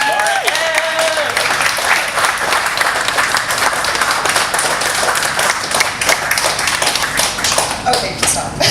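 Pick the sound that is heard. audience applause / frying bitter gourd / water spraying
audience applause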